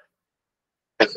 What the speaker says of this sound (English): I was trying not to cough horrifically in this.